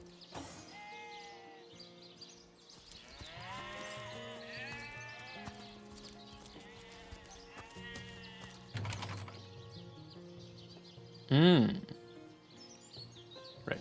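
Sheep bleat repeatedly in the Divinity: Original Sin video game, wavering calls spread through the scene with a louder, sharper bleat near the end, mixed with soft game ambience and other chirping tones.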